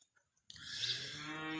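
A cow bellows loudly on a farm hillside with calves nearby, one sustained nearby moo starting abruptly after near silence and holding steady to the end.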